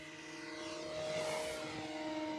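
Small E-flite Commander mPd electric RC airplane with a 1.4 m wingspan flying overhead, a faint steady propeller whine that swells slightly as it passes.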